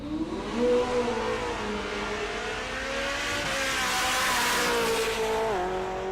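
A drag racing car accelerates hard down the quarter mile at a dragway during a race week event, its loud engine roaring with pitch climbing through gear changes, near and aggressive, with no voices.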